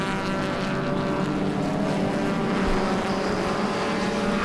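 Racing cars, including a BMW 325i and a Honda Civic, thunder along the front straight in a classic car race, a loud, continuous engine roar with no voices.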